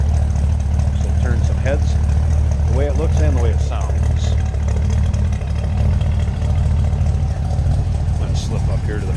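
A 1965 Chevrolet Impala convertible runs steadily, heard from behind the car with a loud, continuous low exhaust rumble. Someone talks over it throughout.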